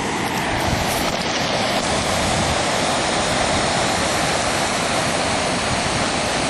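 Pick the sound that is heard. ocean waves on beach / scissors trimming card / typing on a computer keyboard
ocean waves on beach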